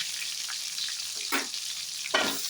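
Chopped onion fries in a pan with a bright, constant close sizzle, rising in two brief bursts as the pieces are stirred or shifted.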